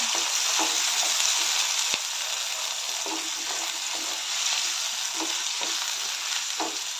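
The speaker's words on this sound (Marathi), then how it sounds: "टोमॅटो कांदा टोमॅटो थोडंसं लालसर होईपर्यंत हे परतून घेऊया आपण" Onion and tomato sauté in a pan for a hotel-style mixed vegetable dish, producing a continuous close sizzle broken by regular scraping strokes of a stirring spoon, with no talking.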